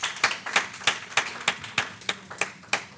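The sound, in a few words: round of applause for mentors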